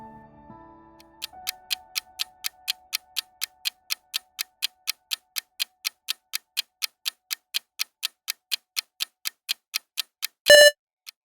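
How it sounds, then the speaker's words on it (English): Quiz countdown timer ticks at a steady even pace, about thirty sharp clicks in a row, ending in a brief loud buzzer-like tone. "10 seconds on the clock."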